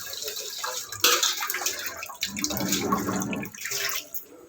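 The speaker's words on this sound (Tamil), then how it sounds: "இது பச்சரிசியும் பாசிப்பருப்பும் தண்ணியில் கழுவுறதுக்கு ரெடி பண்ணிட்டாங்க." Raw rice and moong dal being washed in water by hand for pongal, with splashing, swishing and pouring sounds close by, fairly loud and uneven.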